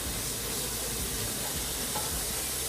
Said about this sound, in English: So I'm trying to brown the fat.